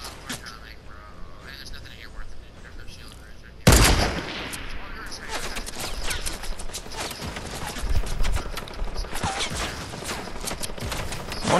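Gunfire in a squad battle-royale shooter game: a sudden loud burst of rapid shots starts partway through and continues as sustained automatic fire, with a player talking over it.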